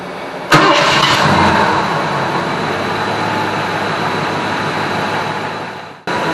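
A car engine cranks and fires after a Pertronix TFI distributor swap, catching abruptly and settling into a steady, loud, close running drone that cuts off near the end.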